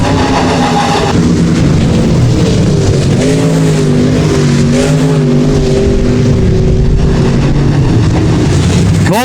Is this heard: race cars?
yes